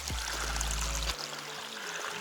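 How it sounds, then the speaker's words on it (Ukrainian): A small mountain stream flows toward the Zhonka river along a hiking route to the Pereslop pass, a soft steady rush and trickle, with a low rumble in the first second. "Отак іде струмок до річки жонки"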